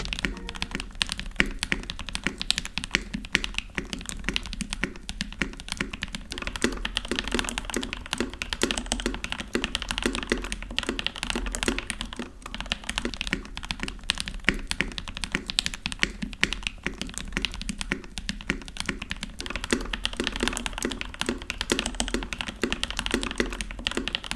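Continuous fast typing on a custom NK87 mechanical keyboard with its bottom silicone dampening pad removed, loud and close, with dense clacky keystrokes that never pause.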